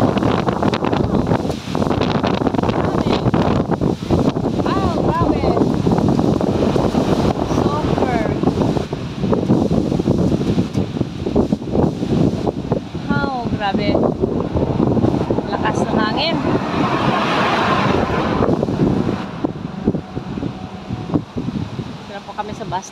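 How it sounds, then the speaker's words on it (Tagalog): Strong wind blowing through a rose garden with large trees, a steady, loud roar buffeting the microphone throughout, with people talking over it. "Super lakas ng hangin at ang lalaki ng puno nila."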